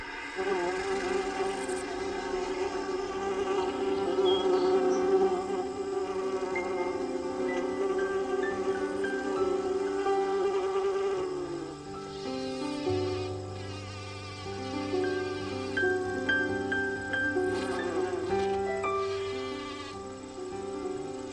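Worker bees buzzing around a garden hive, a steady, dense droning hum that swells and eases while holding on continuously, fairly close and with no talking.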